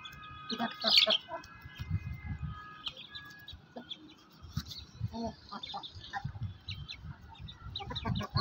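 A rooster clucks repeatedly nearby in short bursts, with a louder squawk early on and softer chirps around it.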